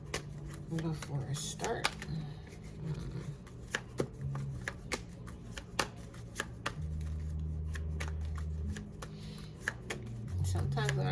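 A deck of tarot cards is shuffled by hand with rapid papery riffles and irregular snapping clicks, while a person talks briefly over a low steady hum.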